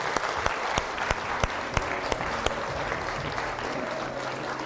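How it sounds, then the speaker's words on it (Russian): Continuous applause from an audience welcoming interview guests on stage, a dense wash of clapping with several sharp, nearby claps standing out at regular intervals. "И под ваши аплодисменты, друзья, Ицхак и Андрей, пожалуйста, приглашаю вас на этой интервью"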